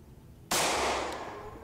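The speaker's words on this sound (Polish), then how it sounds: "Cztery strzały, jeden trafiony." A single loud gunshot from the video game Project Zomboid cracks suddenly out of near silence, then fades slowly through a long, echoing tail.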